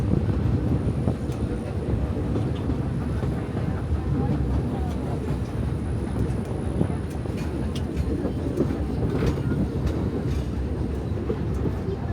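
A continuous, steady rumble of a Magic Kingdom theme park train ride rolling along, with constant wheel and engine noise heard from on board and faint clicks and squeaks scattered throughout.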